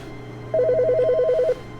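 Telephone ringing inside The Stanley Parable video game: one warbling electronic ring of fast trilled tones, about a second long, crisp and close against a steady low background drone.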